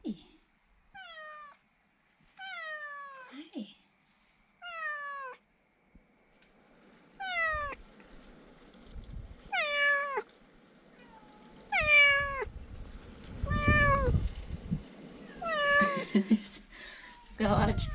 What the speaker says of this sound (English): We've got a lot of cat drama going on at the moment.